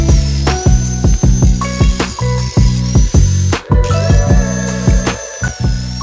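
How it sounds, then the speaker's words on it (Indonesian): A power tool cuts the metal of a bonsai trunk-splitting vise in repeated short bursts, loud and close, with whining spin-ups and drops and a high sustained squeal in between, no speech. "Saya potong bagian ini agar bagian dalam muka catok pemecah batang bisa lebih luas"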